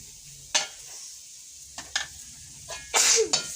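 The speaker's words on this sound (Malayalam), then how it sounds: "അതിലേക്ക് നമുക്കത് മല്ലി മഞ്ഞൾ മുളക് ഇട്ട് കൊടുത്താൽ നോക്കി വഴ നന്നായി വഴറ്റാട്ടോ" Onion, ginger and garlic being stirred in a pan with coriander, turmeric and chili powders, a few scraping stirs and a brief louder sizzle burst, close up with no talk.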